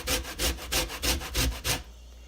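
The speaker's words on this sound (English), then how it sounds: "Need the zest of an orange next, so that is done by using the small grater" Rhythmic rasping of orange zest being grated on a small grater, six quick back-and-forth strokes close to the ear before stopping.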